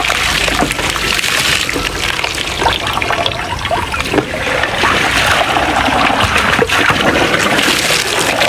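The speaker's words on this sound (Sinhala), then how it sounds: "වහින්නේ" Steady rain falls close by in a continuous wash of patter and splashing water, with dripping and trickling running through it and no clear talk.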